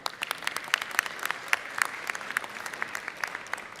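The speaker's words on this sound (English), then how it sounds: "If you would give him a round of applause for us," Scattered, moderate applause rises in a legislative session chamber as members clap for a guest, with sharp individual hand claps standing out over a thinner crowd layer, fairly distant and steady.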